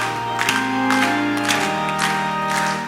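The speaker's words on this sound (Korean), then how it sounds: "우리 박수를 치면서 힘있게 찬양하겠습니다" A church congregation claps along while singing a hymn at a Wednesday evening service, rhythmic claps scattered over sustained voices and organ-like tones, steady and fairly loud throughout.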